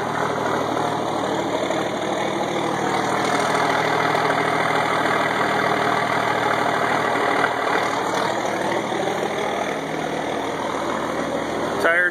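A 1986 AM General M35A2C military truck's diesel engine idles after a cold start, a loud, steady low rumble with constant mechanical clatter, close and unbroken.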